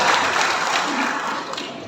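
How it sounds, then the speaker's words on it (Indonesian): Loud, close applause from a gathering at a community halal bi halal discussion forum, a brief burst of many hands clapping together. "Beri aplaus, tepuk tangan je"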